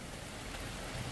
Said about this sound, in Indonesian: Agak reda kok hujan nih.